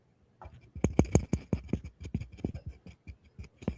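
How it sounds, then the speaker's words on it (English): Rapid keyboard typing in a room, dense uneven clacks of keys struck quickly and fairly close, running steadily without any talk. "You can frantically hear Tom typing away back there."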